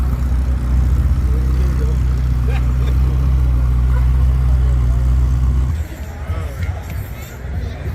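A Ferrari engine rumbles low and steady at a car show while it parks, with crowd chatter all around, then drops away after about six seconds.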